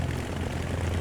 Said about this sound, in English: I just started the engine, so I'm going to let them warm up just a little bit